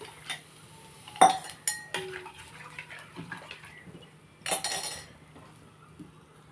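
Wheat flour dosa batter being mixed with buttermilk in a kitchen, heard as scattered clinks and scrapes of a utensil against a metal vessel with wet sloshing, several sharp knocks standing out between quieter stirring.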